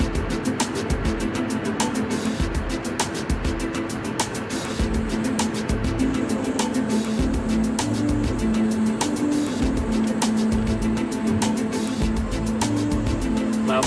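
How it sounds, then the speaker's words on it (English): A car drives over a rough, patched road, with a steady interior engine and road rumble overlaid by frequent sharp thumps and rattles from bumps, no talking. "It's really hard to be filming in the car here because the road is rough, patched up all over the place"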